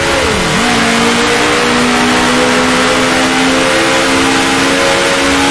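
A 1960s Formula 1 race car engine in Grand Prix Legends, heard at the Dutch Grand Prix, drops pitch briefly at a gear change and then holds a loud, steady high-revving drone with no talk.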